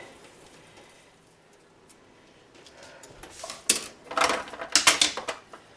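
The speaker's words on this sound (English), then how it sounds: "So I'm just going to cut these green onions off." A knife chops green onions on a board with a quick run of sharp taps that builds in the second half, close and clear, preceded by near silence.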